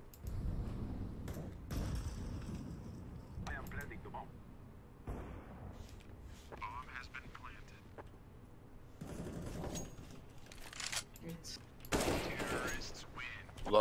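Gunfire from a competitive shooter video game comes in repeated bursts and rapid volleys over several seconds, with players talking over the action.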